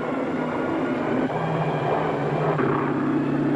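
Low-flying WWII attack bombers give a loud, continuous engine roar that drones steadily without a break.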